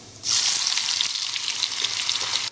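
Onion and asafoetida hit hot oil with toasted cumin, bursting into a loud, steady sizzle that holds evenly throughout with faint crackling on top.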